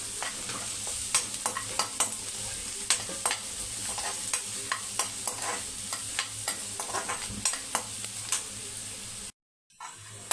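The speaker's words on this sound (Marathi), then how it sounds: "आता व्यवस्थित कांदा आपल्याला परतून घ्यायचा आहे कांदा चांगला मऊ होईपर्यंत आपल्याला भाजायचा आहे" Onion and curry leaves sautéing in a pan, a steady close sizzle broken by repeated scraping stir strokes for about nine seconds, then a brief hush before stirring resumes; no talking.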